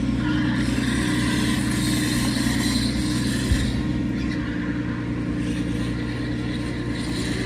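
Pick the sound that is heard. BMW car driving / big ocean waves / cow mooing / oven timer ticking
BMW car driving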